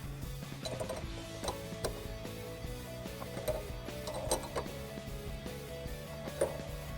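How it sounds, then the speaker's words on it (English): A 17mm wrench tightens fittings on a Mishimoto baffled oil catch can being installed in a 2016-2023 Camaro SS, giving close, irregular metallic ticks and ratcheting clicks over a low background hum. "then we'll tighten these down with a 17mm wrench"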